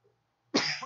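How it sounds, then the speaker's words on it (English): A single short, sharp cough, close to the mic and fairly quiet, after a moment of near silence. "Sorry, I coughed."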